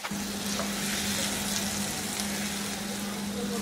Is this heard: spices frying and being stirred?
yes